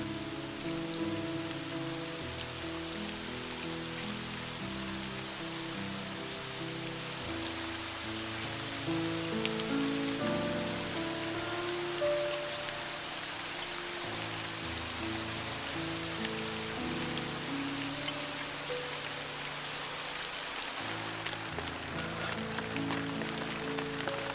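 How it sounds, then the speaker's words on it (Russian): Light rain patters steadily on a surface, with soft music playing underneath throughout. "Из таких облаков – обязательно прольется мелкий"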